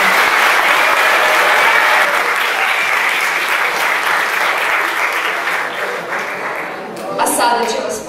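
A hall audience at a school's anniversary celebration applauds the former teachers and staff, with loud, dense, sustained clapping from a large crowd that thins slightly toward the end.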